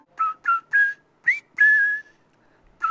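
A person whistles a tune from a song by an Indonesian singer during a music guessing game on a TV talk show, five clear melodic phrases close up, alone with no talk.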